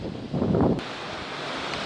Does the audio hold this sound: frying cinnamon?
no